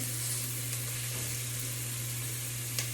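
Chopped onion frying in a pan gives off a steady, soft sizzle that runs evenly throughout, with a faint low hum underneath and no talking.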